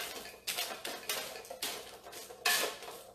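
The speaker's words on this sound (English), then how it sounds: "Okay, spoon, here it is. Okay, just a quick mix over here." A spoon mixing a green detox salad in a bowl, a series of clinking, scraping strokes against the dish, close and fairly quiet, irregular in rhythm, with no voices.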